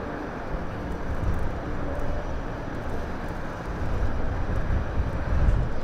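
An easyJet Europe Airbus A320neo at Southend Airport gives off a steady, loud broadband engine roar that swells slightly toward the end.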